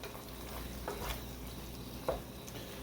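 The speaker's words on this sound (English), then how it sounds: "Give it a quick mix." Seasoning and garlic powder stirred quickly in a pan for chicken lasagna, giving a faint, soft scraping and low sizzle with one small clink of a utensil.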